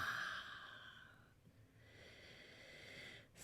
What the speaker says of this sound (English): Exhale audibly out your mouth.